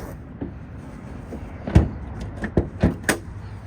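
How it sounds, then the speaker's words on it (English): Doors on a 1963 Chevrolet Corvette fuelie with new hinges, swung open and shut several times, giving a string of solid thunks and latch clicks close by in a quiet room. "The doors open and close beautiful."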